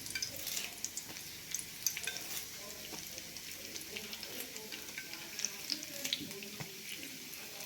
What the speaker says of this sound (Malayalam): ഇത് നമുക്ക് ആദ്യം കറിവേപ്പില വറുത്ത് പോരണേ